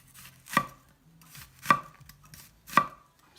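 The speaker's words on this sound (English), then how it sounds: "So you just go in at a slight angle into the middle of the onion." A knife chops an onion on a board in three crisp, evenly spaced strikes, close and distinct against near silence, with no voices.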